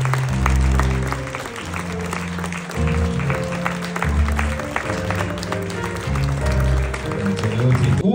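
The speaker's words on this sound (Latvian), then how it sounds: "Ar aplausim sagaidām Anneli." Audience applause greets the bronze medal winner at a 2025 Latvian award event, clapping running steadily under loud live music for the whole stretch.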